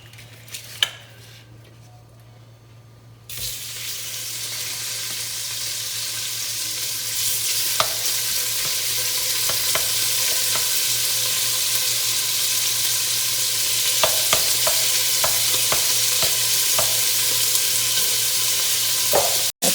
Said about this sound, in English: When I put the first batch in here, it's gonna start sizzling and getting pretty loud.